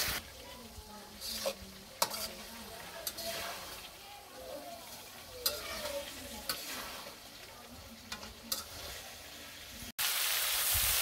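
Duck meat fries and is stirred hard in a pan during a village-style kosha, with a steady sizzle broken by repeated loud scrapes and knocks of the spatula and a faint voice at times.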